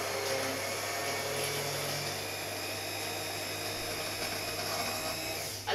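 A hand blender purées a broccoli and almond soup with a steady, whirring motor drone and a soft churning of liquid, running continuously at a moderate distance.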